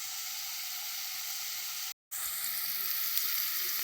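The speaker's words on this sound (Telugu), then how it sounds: "ఉల్లిపాయ ముక్కలు వేగినాయి, బాగా ఫ్రై అయినాయి." Onion pieces frying in a pan for an Andhra-style chicken fry give a steady, bright sizzle, broken once by a very brief dropout partway through, then resuming as a loud continuous hiss.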